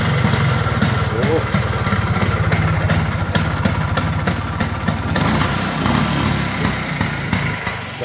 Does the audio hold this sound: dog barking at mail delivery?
no